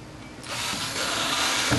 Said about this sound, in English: I'm going to drill a couple of holes as well